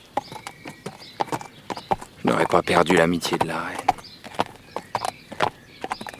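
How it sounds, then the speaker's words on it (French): Horse hooves clip-clop at a steady walking pace under a man's speech, with a brief whinny in the middle and the hoofbeats continuing alone afterward. "son cheval le mène à l'abri d'un grand arbre"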